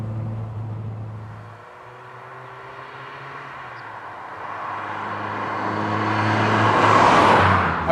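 A car engine revs steadily higher toward its redline of about 6,300 rpm, a droning note that swells and climbs in pitch over several seconds, loud and close, with no talk.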